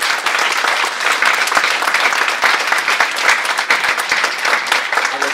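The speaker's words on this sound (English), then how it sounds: "a big round of applause for these great candidates." An audience at a congressional candidates' debate gives a round of applause, loud crisp clapping with sharp individual claps standing out in a steady sustained burst.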